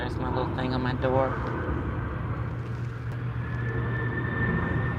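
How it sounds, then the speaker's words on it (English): Aircraft passing overhead outdoors, a steady loud engine roar and hum that swells and holds across the whole stretch, with a person speaking briefly near the start. "now there's planes outside. So it's getting loud out there."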